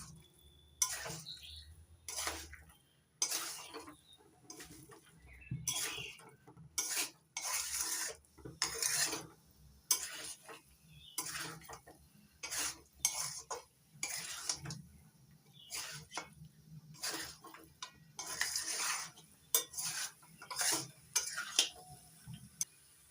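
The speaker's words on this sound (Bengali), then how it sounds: "ভেজে রাখা এঁচোড় আর আলু চিকেনের সঙ্গে আরও 3-4 মিনিট কষিয়ে নেব।" Fried jackfruit and potato being stirred with chicken in a pan, a long series of intermittent spatula scrapes and metallic clinks against the pan, close and fairly quiet, with soft sizzling between strokes and no talking.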